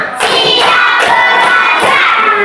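Primary schoolchildren in a fourth-grade classroom clap together in a rhythmic counting game, sharp loud bursts of group clapping and thumps landing in a quick beat, close and lively.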